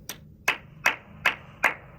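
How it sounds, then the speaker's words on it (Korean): Five sharp hand claps ring out at an even, steady pace inside the cabin of a Genesis G90 car, each a crisp, close snap with a short decay. "박수를 치면 울리는 걸 느끼실 수 있으실 겁니다"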